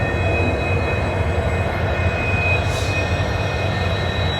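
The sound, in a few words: diesel locomotive train at Badarpur Junction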